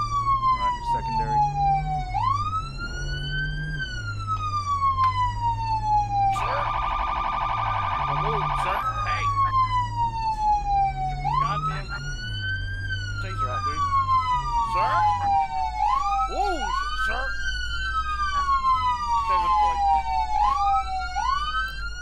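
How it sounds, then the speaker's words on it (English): Police sirens wailing in the Flashing Lights video game, loud rising-and-falling tones that overlap and repeat, with a burst of rapid yelping partway through over a low engine rumble. "Sirens."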